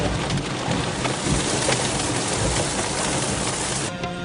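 Heavy rain falls in a dense, continuous hiss and patter, loud and unbroken throughout.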